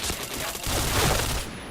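Rapid bursts of gunfire in a multiplayer shooter video game, dense and loud, fired in quick volleys that fill the moment without pause.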